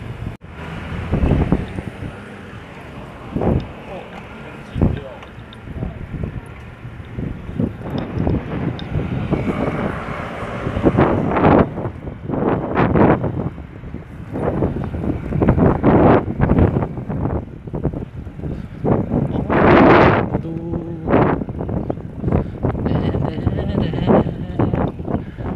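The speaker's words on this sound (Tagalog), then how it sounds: "napakasarap ng hangin, napaka-presko" Wind rushes and buffets across the microphone while riding in a boat on a fishing trip, a rough, gusty roar with engine and water noise underneath, broken by bursts of talking throughout.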